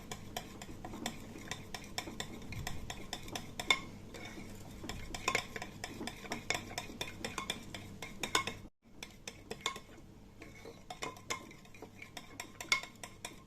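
A spoon scrapes and taps against a bowl of tahini mixture in steady, repeated stirring strokes, close and fairly quiet, with a brief pause midway.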